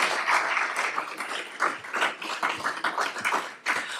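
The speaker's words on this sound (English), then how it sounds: "Can we have another quick round of applause for all three speakers," Audience applause for three speakers at a talk on spotting diabetic foot complications, a steady wash of many hands clapping that swells and dips slightly, fairly close and filling the room with no voices on top.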